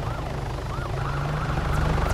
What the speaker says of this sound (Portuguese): É um helicóptero pequeno.